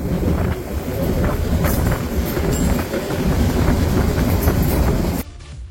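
A train on a heritage railway line rolls past close by with a loud, continuous rumble and rattling wheel clatter before cutting off abruptly near the end.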